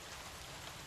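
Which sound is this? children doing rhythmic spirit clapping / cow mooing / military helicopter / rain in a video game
rain in a video game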